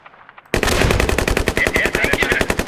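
Gunfire in the military shooter Squad, a sudden loud burst of rapid automatic fire that breaks a near silence and keeps going as a dense, evenly paced stream of close shots.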